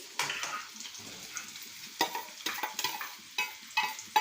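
Green chillies sizzle in hot oil in a pan, with a steady crackle broken by several sharp stirring scrapes and clinks, heard up close with no talking.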